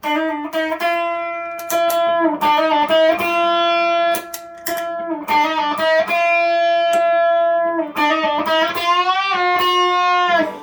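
An electric guitar plays through the Dan side of a D&M Drive overdrive pedal, ringing sustained chords and notes with a thick, bass-heavy overdriven tone, close and loud, with short pauses between phrases.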